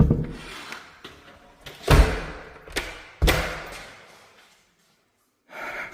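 Doors in a house under remodel are shut and locked, giving a series of sharp thuds and clunks with short echoing decays, followed by a brief silence and a light rustle.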